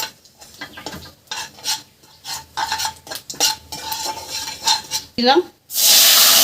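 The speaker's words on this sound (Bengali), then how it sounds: "ফোড়ন দিলাম, এটা রেখে বেঁধেছি রাঁধুনি, জিরে, আদা, লঙ্কা আর টমেটো" A voice speaks over quiet kitchen clatter, then a loud burst of sizzling erupts as a tempering of radhuni, cumin, ginger, chilli and tomato hits hot oil in the pan for a Bengali fish curry.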